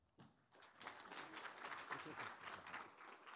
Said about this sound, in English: So a warm round of applause, if you will, for Chris Baker